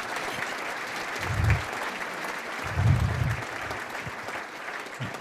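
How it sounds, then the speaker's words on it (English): Audience applause fills a Bay Area Chamber of Commerce State of the Community luncheon, a steady, even wash of many hands clapping for about five seconds, with two slightly louder swells. "Let's give these folks a round of applause."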